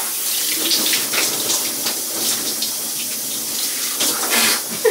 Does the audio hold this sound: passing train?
no